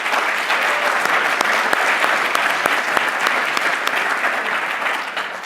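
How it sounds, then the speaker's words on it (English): Audience at a student pitch contest giving a round of applause, dense continuous clapping with a few sharper individual claps standing out, holding steady and tapering slightly at the end. "can we give Stu another round of applause?"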